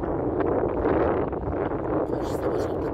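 Steady wind roars across a high clifftop overlooking the Euphrates Valley near the ancient site of Arsameia, a loud continuous buffeting rush with gusts hitting the microphone throughout.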